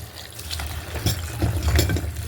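Elephant foot yam being rinsed by hand in water in a home kitchen, a steady close splashing and trickling with soft swishes and a few louder sloshes, no talking.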